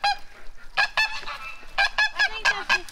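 A Sebastopol goose honks in a quick series of loud, close, nasal calls, some pairs and clusters with brief gaps between them, heard alone without talk.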